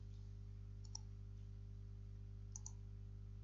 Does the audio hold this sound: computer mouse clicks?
yes